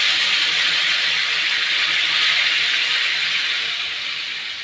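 Hot water poured into a pot of cooking curry makes a loud, steady, close hiss that fades slightly near the end.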